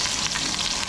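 Onion sizzles and fries in a hot pan, a steady bright crackling hiss that fills the whole short moment without any talk.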